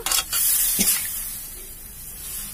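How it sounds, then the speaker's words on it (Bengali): Water poured into a hot pan of mustard paste and greens sets off a burst of loud hissing steam. The hiss stays close and strong, then gradually fades as the pan settles. "এবার জলটা দিয়ে দেবো।"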